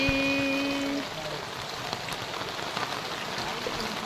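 Steady heavy rain pours down in a dense, continuous hiss, with a brief tonal hum fading out in the first second.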